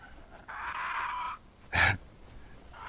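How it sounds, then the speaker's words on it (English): Birds in the game Conan Exiles give loud, parrot-like calls: a sustained nasal squawk followed by a short, sharp harsh cry, close and alone. "these birds, like, I find that they make the most delightful, like, parrot-like sound"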